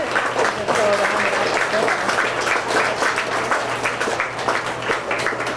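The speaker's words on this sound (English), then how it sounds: "We can give them a round of applause" Sustained crowd applause at a county fair beef show as kids lead their calves out of the ring, loud and continuous, with a voice talking over the clapping.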